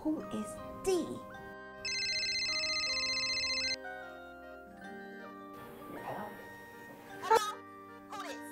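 A phone rings with a steady electronic tone for about two seconds, then stops, amid people talking nearby and some background music.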